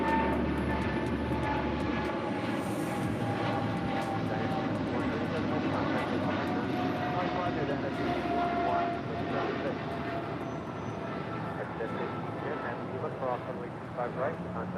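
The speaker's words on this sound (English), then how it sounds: "Japan Airlines Flight 62 coming in from Tokyo to Rita on the 787-8 Dreamliner, heading to the gates on the southeast corner of Tom Bradley." A Japan Airlines 787-8 Dreamliner arriving from Tokyo at LAX, its steady engine roar held at moderate distance for the whole stretch, with a faint whining tone and ambient airport noise underneath.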